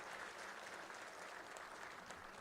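Applause from an audience at a Veer Gatha 3.0 ceremony, cheering on the children: a steady, dense wash of clapping, fairly faint and even throughout, with no talk over it.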